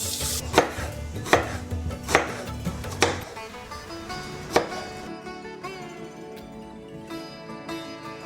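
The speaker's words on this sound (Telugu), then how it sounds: "సో దీన్ని చిన్న చిన్న పీసెస్గా కట్ చేసుకుందాం." A knife chops a mango into small pieces on a cutting board, with about five distinct, crisp chops at an uneven pace close by, then quieter handling.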